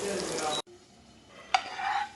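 Onions sizzling in a hot pan, loud at first, then cutting out; after a quiet pause a scrape of stirring sets the frying hiss going again.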